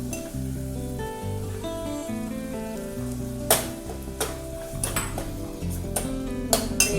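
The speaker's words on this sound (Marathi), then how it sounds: "आता आपण त्याच्यामध्ये शिजवलेला पालक घालूया" Cooked spinach is added to spiced dal and stirred in the pan, giving a moderate sizzle with clattering spoon-on-pot clinks that grow busier toward the end, over steady background music.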